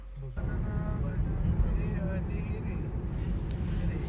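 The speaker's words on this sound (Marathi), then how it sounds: "पहिला आपण कोल्ड स्टार्ट करूया." A car engine is cold-started on an early morning, then settles into a steady, loud low rumble of idling that holds throughout. The car will be taken on a drive to the Lonavala hills.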